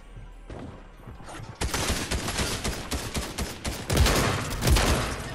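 Shotgun gunfire in the Fortnite video game, a burst of several loud, close blasts in quick succession over a quieter lead-in, with heavy booming impacts near the end.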